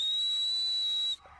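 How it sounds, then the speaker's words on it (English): A shepherd gives a border collie a whistle command to swing out to the right: one loud, steady, pure high tone held for just over a second, then cut off abruptly. "The whistle command to put him out to the right."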